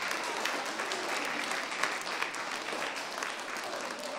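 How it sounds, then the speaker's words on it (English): Steady, dense applause from a school concert audience for a beginner student band, a continuous wash of many hands clapping at even loudness for several seconds. "big round of applause for all of our band"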